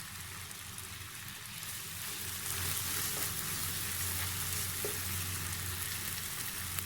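Semolina halwa with added dry fruits roasts in a pan, making a soft, even sizzle with faint stirring scrapes. It grows a little louder partway through, with no voices over it.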